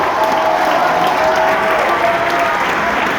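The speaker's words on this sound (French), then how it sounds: "un maximum de bruit pour Quentin, pour ce qu'il a fait." An audience at the Grand Rex in Paris applauding loudly and steadily, with scattered cheers mixed into the dense clapping throughout.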